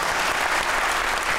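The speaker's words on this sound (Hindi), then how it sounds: "तालियां।" A studio audience at a Pakistani comedy talk show claps in a dense, even burst of applause that holds at steady loudness throughout, with no voices over it.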